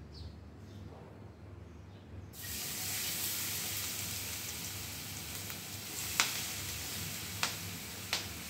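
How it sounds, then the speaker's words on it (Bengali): Potato and pointed gourd peels dropped into hot white cooking oil give a sudden steady broadband sizzle, with a few sharp crackles and pops near the end. "এবার আমরা এই মেখে রাখা খোসাগুলো একটু একটু করে তেলের মধ্যে ছেড়ে দেব।"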